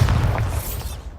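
A Bombarda blasting spell explodes in the video game Hogwarts Legacy, a loud, booming burst with heavy low rumble that fades over about a second.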